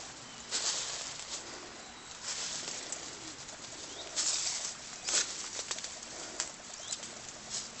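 Sudden bursts of wings flapping as song thrushes take off from a nest nearby, over a steady outdoor hiss, with a soft coo in the background.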